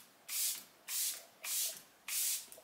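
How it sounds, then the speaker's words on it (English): Charlotte Tilbury Airbrush Flawless setting spray misted four times in even, close hissing bursts, each about half a second long with short pauses between. "I am gonna use the Charlotte Tilbury Airbrush Flawless Setting Spray"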